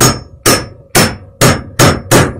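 Six sharp, evenly spaced hammer taps on a wood block pressing a fitting onto a plumbing pipe in a studio apartment, close and loud with brief ringing decay after each strike and no talk.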